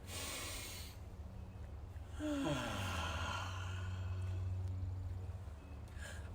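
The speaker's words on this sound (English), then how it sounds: "let's do one more deep breath" A slow deep breath drawn in and let out during a relaxation exercise at an Earth Day nature concert, a soft, close sigh-like inhale and exhale with a low hum underneath.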